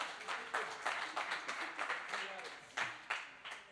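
Audience applause at a live concert in Kigali: scattered, fairly quiet clapping with irregular claps from a small crowd, running under a voice speaking on a microphone.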